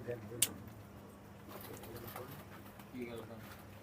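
Pakistani high-flying pigeons cooing softly nearby in a quiet setting, low repeated coos with a sharp knock early on and faint background noise, no clear talking.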